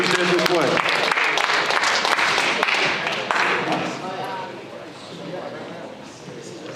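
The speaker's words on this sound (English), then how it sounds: "one more round of applause for Jake and signees" A high school gymnasium crowd at a spring signing day claps for the signees, dense loud applause that gradually thins and fades over several seconds while voices carry through the room.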